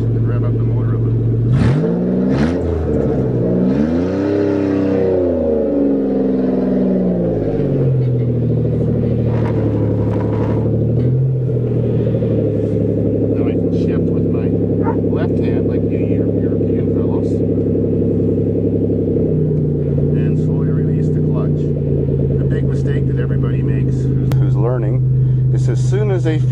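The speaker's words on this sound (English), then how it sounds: "So now I slowly release the clutch and rev up the motor a little." Engine of a manual Toyota on a farm rising in a rev as the clutch is let out, then settling to a steady low idle-like rumble under continuous talk.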